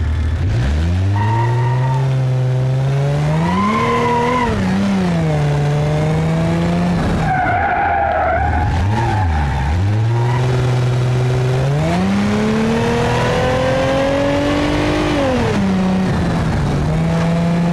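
A panel van with a 2.8 liter V6 engine driving in BeamNG.drive, loud and close, revving up and down through several gear changes, with a brief squeal of tires partway through.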